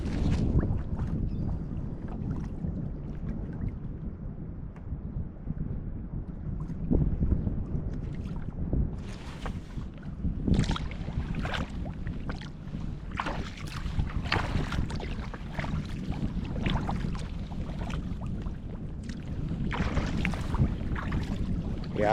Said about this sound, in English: I can paddle through this stuff like I'm actually going against the wind right now